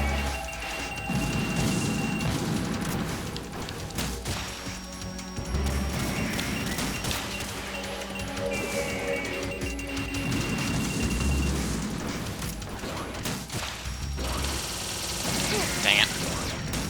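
Rapid gunfire and crashing impacts from a boss fight in Metal Gear Solid 2, a dense continuous barrage of shots and explosions with no gaps throughout.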